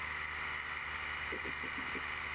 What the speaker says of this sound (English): So make sure your engine's working well.